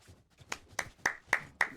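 A small group claps in unison at a competition event, with about five sharp, evenly spaced claps. They are fairly faint and close, with quiet room noise between them.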